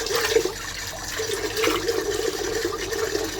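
Water runs from a tap in a bathroom, a steady close splashing and gurgling stream that continues at an even level throughout, with no talking.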